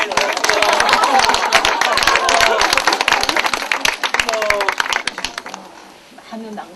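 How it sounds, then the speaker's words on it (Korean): Workshop participants clap together in a loud, close burst of many hands that tapers off toward the end, with voices talking and calling out over the clapping. "박수 한번 해주고."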